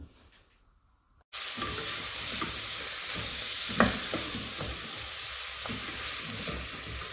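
Carrots and mushrooms frying in a pan sizzle loudly and steadily after a quiet opening second, with occasional stirring scrapes and clicks over the continuous hiss.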